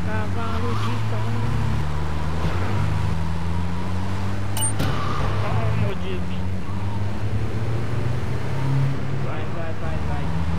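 Car driving in the video game GTA 3: a steady engine drone with rising and falling pitch as the vehicle speeds and turns, with a brief sharp clatter midway, while a player talks excitedly over it.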